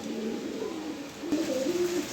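A pigeon coos close by, low throaty warbling notes rising and falling over a steady background hum.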